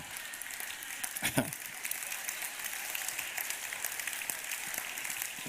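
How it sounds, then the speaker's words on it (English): Scattered, fairly faint audience applause at a sermon, a thin patter of claps that stays at an even level, with no talking over it. "all right, sympathy applause."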